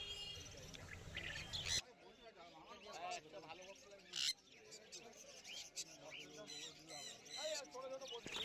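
Small birds chirp and tweet close by at a busy bird market, their sharp calls coming in scattered bursts under someone talking.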